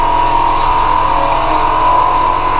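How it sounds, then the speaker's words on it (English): A FLYDIGI BS1 gaming laptop cooling pad fan spins at 3000 RPM, giving a steady, even whir with a constant tone and no talking. "3000 RPM, you can hear the fan a little bit, but not that much"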